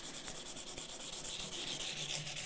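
Guitar frets on an acrylic SG-style body sanded with 240 grit sandpaper, a continuous close scratchy rubbing in quick back-and-forth strokes, steady and alone.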